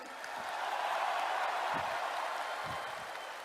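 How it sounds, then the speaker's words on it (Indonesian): Large crowd applauding at an Indonesian political rally, a dense, even roar of clapping that swells and fades slightly, somewhat distant, with a few low thumps underneath. "Tepuk tangannya kurang semangat."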